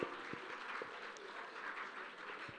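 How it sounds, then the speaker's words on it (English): A small audience at an evening event claps quietly for a few seconds, a faint, soft patter of applause with a few sharper claps standing out. "A big round of applause to her."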